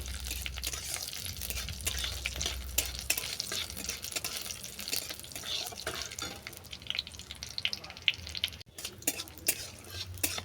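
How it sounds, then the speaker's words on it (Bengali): Panch phoron spices, added after dried red chillies, frying in hot oil for a crab and cucumber dish, with a steady loud sizzle and frequent scraping stir strokes throughout, no talking. "এরপর দিয়ে দিলাম পাঁচ ফোড়ন ফোড়নটাকে ভালো করে ভেজে নেব"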